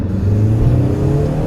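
A 2014 Hyundai Elantra Coupe engine revs steadily while accelerating, a loud, continuous mid-pitched drone with a slowly rising tone, heard close with no talk.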